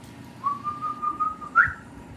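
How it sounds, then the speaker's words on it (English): A person whistles a short, wavering tune of several linked notes, ending in a brief higher chirp, close and clear with no talking. "So now I can whistle."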